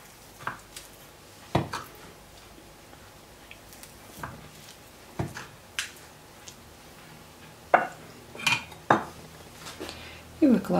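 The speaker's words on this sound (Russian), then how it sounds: "Нарезаем на тоненькие кусочки." A knife slicing brynza cheese into thin pieces taps and scrapes against a plate in a series of short, sharp clicks, irregular at first and then quicker toward the end.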